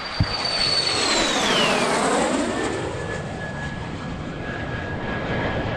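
A MiG-17 jet fighter makes a loud, sustained pass at the EAA AirVenture Oshkosh 2023 airshow, its roar sweeping down in pitch as it goes by, then settling into a steady, fading whine.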